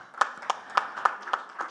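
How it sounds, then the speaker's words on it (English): An audience applauds a panel speaker at a financial technology conference, with a short burst of about six distinct, evenly spaced claps close by rather than a full crowd. "Let's give a big, big round of applause"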